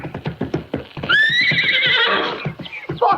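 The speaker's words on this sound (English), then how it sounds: "Take it easy with that horse." A horse whinnies loudly and close at a riding ring where a jumper is being worked, the high rising neigh running about a second and a half over a steady clip-clop of hooves.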